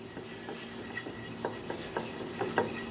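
A linseed-oil-based finish with natural dryers is rubbed into wood by hand in a gunsmith's workshop, heard as a close, dry, rhythmic series of short rasping strokes in quick succession with no talking.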